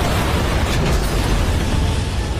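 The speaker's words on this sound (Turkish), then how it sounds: "Kaos silahı atıyor." A chaos weapon explosion in the Shin Sonic video game, a dense, sustained roaring blast that fills the whole span at steady high loudness with heavy low rumble and no pauses.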